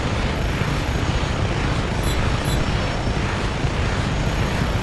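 Large helicopter flying in the video game Just Cause 3: a dense, steady, loud rotor and engine roar that fills the whole stretch without a break.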